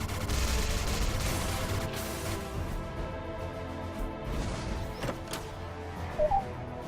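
Missiles burst in the game StarBreak, a loud crackling volley at the start fading into scattered softer pops and thuds over steady game noise, with a few sharp blips near the end.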